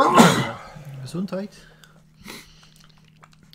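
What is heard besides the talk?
sneeze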